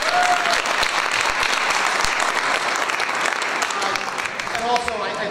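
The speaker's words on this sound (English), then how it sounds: "I do think we should give a round of applause for Joe for taking over." Audience applause at a Pelham Chamber of Commerce relaunch event, a steady dense clapping from a room of people that runs loud and unbroken for the whole stretch.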